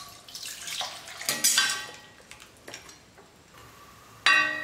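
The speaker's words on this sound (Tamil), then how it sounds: "சிக்கன் கிரேவி எந்த அளவுக்கு வேணுமோ அந்த அளவுக்கு நம்ம தண்ணி சேர்த்துக்கலாம்." Water pours into a pan of spicy chicken gravy during cooking, a splashing trickling rush in a few short bursts, with a louder final pour standing alone and close.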